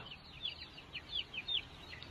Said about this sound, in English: This is a group of meat chickens.